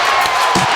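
In the basketball video game NBA Street Vol 3, an arena crowd erupts after a dunk, a short burst of loud cheering and clapping that rises briefly and stays dense.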